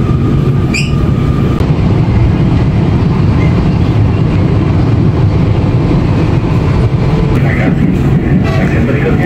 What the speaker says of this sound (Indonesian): Jadi gue coba kereta tren Cina ini hanya sampai stasiun Manggarai aja.